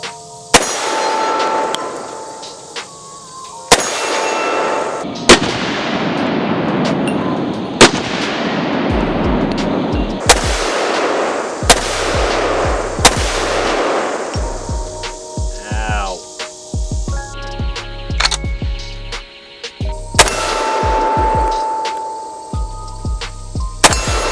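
A Desert Eagle .50AE pistol fires outdoors, with about a dozen loud, booming single shots spaced a few seconds apart, each trailing into a long ringing decay, plus a steady hum underneath.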